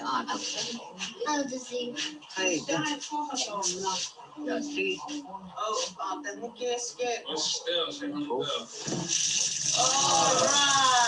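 Water starts gushing from a newly installed tap, a steady hiss that swells near the end after a stretch of people talking over it.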